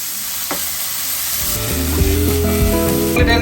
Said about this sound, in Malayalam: സവാള ഇട്ട് കൊടുക്കാം കേട്ടോ. ഒപ്പം പച്ചമുളകും കൂടി ഇട്ട് കൊടുക്കാം. നല്ലപോലെ വഴറ്റി എടുക്കാം.